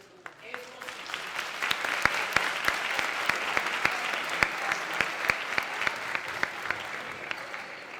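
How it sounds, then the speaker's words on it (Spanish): Applause from an audience at a sign-language event, many hands clapping with sharp individual claps standing out in a rhythmic pattern, steady and fairly close across the whole stretch. "Ese aplauso es para ustedes, mis queridos."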